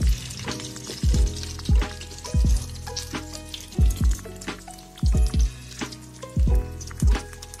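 Karkol fritters frying in hot oil, a steady sizzle broken by repeated sharp clinks and scrapes of a utensil turning them in the pan, close and fairly loud with no talking.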